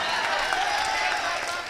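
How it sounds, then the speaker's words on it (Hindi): Audience applause at a mushaira, an Urdu poetry gathering, sounds as a steady, dense wash of many hands clapping at once, holding evenly loud throughout with no break. "इसके लिए जोरदार तालियां बजा दें।"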